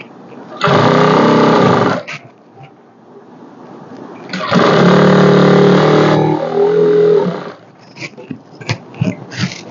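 A sewing machine stitches a blouse sleeve in two sustained whirring runs, about one and two seconds long, loud and close, followed by scattered clicks and handling noises.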